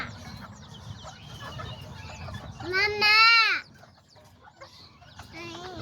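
Azteca chickens and game roosters cluck and chatter nearby in a yard, with a loud rising squawk in the middle, while a voice speaks briefly among them.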